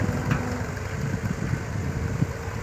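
An Alghazi tractor pulls a potato digger, its engine giving a steady, moderately loud mid-range rumble with a faint rhythmic chug throughout and no talk.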